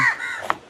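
A crow gives a single loud, close caw outdoors, short and harsh, with no voices around it.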